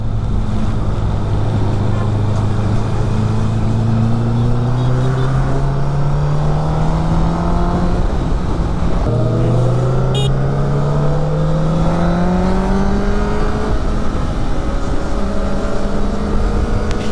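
Heavy traffic on Tumkur Road from the seat of a Honda CBR1000RR superbike, its loud, close engine droning continuously with pitch sweeps as it accelerates and shifts gears, over steady wind and road roar.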